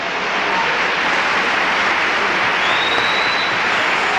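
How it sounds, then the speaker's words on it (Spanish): A church congregation applauds, steady dense clapping that stays loud and even from start to finish with no talk over it. "Un aplauso"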